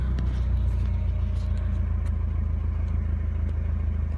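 A Nissan 240SX with a newly replaced ignition switch, its engine already running with a steady, close rumbling idle and a light clatter throughout.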